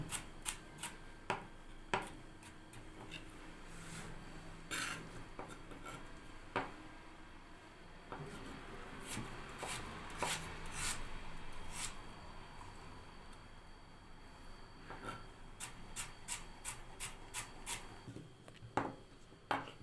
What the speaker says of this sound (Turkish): Şimdi havuçlarımı doğruyorum arkadaşlar.